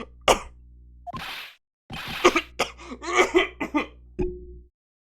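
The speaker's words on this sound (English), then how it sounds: "Just try not to give me that cough of yours, okay?" Several harsh coughs and throat-clearing bursts in an Ace Attorney-style game scene, close and loud, in irregular clusters separated by brief silences.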